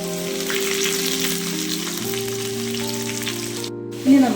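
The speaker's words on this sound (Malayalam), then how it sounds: "പച്ചമുളക് ഇടാം." Green chillies hit hot oil while seasoning a tomato curry, giving a steady, fairly loud sizzle and crackle that holds close throughout, with a brief clatter near the end.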